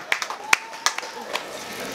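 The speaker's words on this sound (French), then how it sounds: "Applaudissez pour votre proviseur." Scattered clapping from a school prize-giving crowd honouring the headmaster at Lycée Bilingue de Balengou, a few sharp claps spread over two seconds, fairly near, with voices murmuring underneath.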